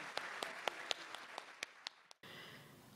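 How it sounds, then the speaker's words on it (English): Scattered claps from an audience applauding conference panelists, sparse and fairly faint, with individual sharp hand claps rising above a soft room murmur before breaking off abruptly. "Please offer our panelists a round of applause."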